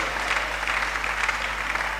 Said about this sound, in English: Please help us to give her a good clap.